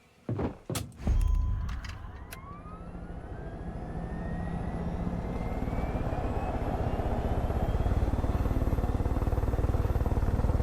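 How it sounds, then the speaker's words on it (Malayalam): A helicopter's rotor thrum in the video game Far Cry 5 builds and settles into a steady, loud drone after a few sharp knocks and clicks at the start. "നമുക്ക് ഹെലികോപ്റ്റർ എടുത്ത് കൊണ്ടുകൊടുക്കാം"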